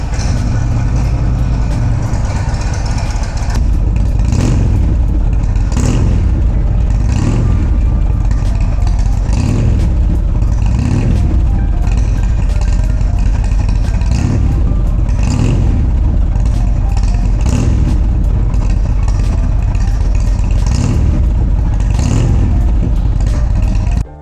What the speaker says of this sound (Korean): 시동이 원터치로 한 번만 툭 눌러주시면 바로 시동이 걸리는데요